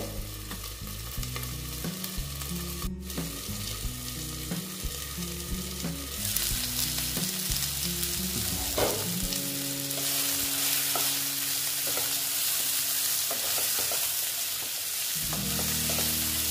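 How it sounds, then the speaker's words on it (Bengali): Vegetables for a Bengali poppy-seed dish slowly frying in a covered pan, a steady soft sizzle with occasional stirring knocks running throughout, no voices. "একটু ঢেকে দিলাম, ঠিক আছে, আস্তে আস্তে ভাজা হোক, একটু নরম হবে।"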